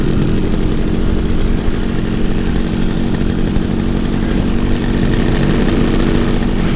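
Paramotor engine and propeller running steadily in flight over a beach, a loud continuous droning buzz with wind rush that stays constant and close throughout, no voices.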